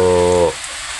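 Steady rain falls outdoors over wet garden plots, a broad hiss close by, with a brief tonal hum at the start that fades into the constant patter.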